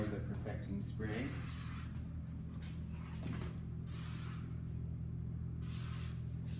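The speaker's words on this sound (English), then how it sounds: "Just finishing her off with a little bit more of the perfecting spray." Hair perfecting spray is sprayed onto a model's styled hair in three or four short, airy hissing bursts over a steady background hum, with voices faintly present.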